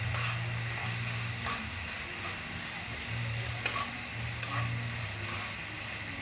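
Food in a pan is stirred with a utensil while it sizzles quietly, soft scraping strokes repeating under a constant low hiss, close and faint, with no voices.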